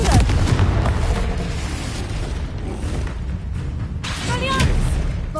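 The Confringo fire spell explodes in Hogwarts Legacy with a loud, close boom and rumbling burst, followed by further crackling blasts and game effects, while a voice speaks over the action.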